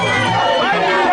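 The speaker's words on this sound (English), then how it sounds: "a crowd of UPND supporters gathered to offer support to their own" A crowd of UPND political party supporters gathered outside the chambers, a dense, steady wash of overlapping chatter and voices close by, loud and continuous throughout.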